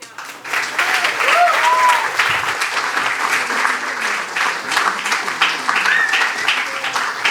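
Sustained audience applause for performers at a live show, a dense steady wash of clapping lasting several seconds with a few faint whistles and cheers rising above it.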